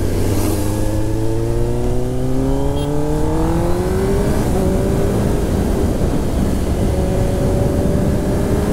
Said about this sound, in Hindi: गाड़ी का आवाज़ दूर से आता है लोगों, तो लोग देखते ही है।